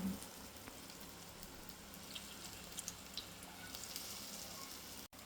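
Bengal gram flower fritters frying in hot oil, a steady low crackling sizzle with scattered small pops throughout, close and fairly quiet, no voices.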